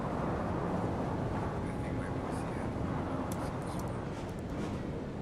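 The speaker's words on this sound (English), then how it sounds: "Yeah, the wind noise is pretty crazy." Steady, loud rushing wind noise while driving a car in the racing game Assetto Corsa EVO, a continuous low roar with no breaks and faint higher tones drifting above it.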